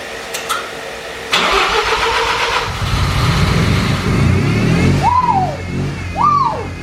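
A Mazda RX7 rotary engine cranks over with a whirring starter, then catches and revs in short bursts with two rising-and-falling swells, loud and close with no talking.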